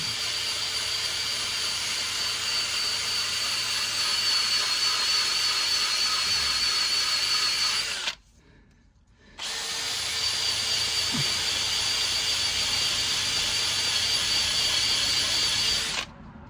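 A power tool grinds rust on a Ford Mondeo in two loud, steady bursts of about eight and seven seconds, split by a short pause, with no talking over it.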